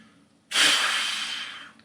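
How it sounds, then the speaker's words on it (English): One deep, forceful breath during a respiration check in a speech mechanism exam, a loud close breathy rush that starts abruptly after a short silence and slowly fades. "can you inhale and then exhale as strong as you can?"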